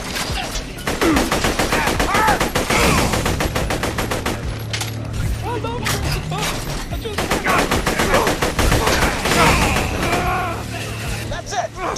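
Rapid bursts of gunfire from Borderlands: The Pre-Sequel, in the Eye to Eye chapter, rattle steadily through most of the stretch, loud and close, while players talk excitedly over the shooting.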